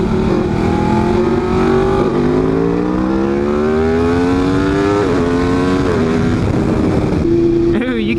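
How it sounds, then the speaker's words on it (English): Stretched and lowered BMW S1000RR motorcycle engine revving at a bike night: a loud, close, sustained rising engine drone with several climbing pulls and brief dips, ending in a sharp blip near the end. "An S1000RR stretched and lowered. Well, she sounds hideous."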